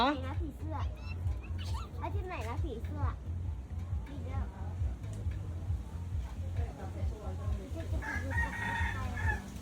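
A parrot gives warbling, rising and falling calls in short bursts over a steady low rhythmic thrum, with faint background voices.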